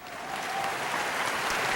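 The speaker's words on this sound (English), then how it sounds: "Let's give these lovely ladies a round of applause." An audience applauds pageant queens, among them a 2022 Mrs. Hinds Community College titleholder, with dense, steady clapping that holds at an even, fairly loud level throughout.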